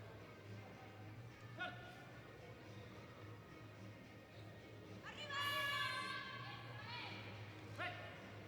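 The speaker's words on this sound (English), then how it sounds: "You can tell he's Spanish by the cheers from the crowd." A powerlifting competition crowd at a European classic championship cheers loudly for a Spanish lifter, a swelling roar with shouts and whistles rising midway over steady commentary from announcers.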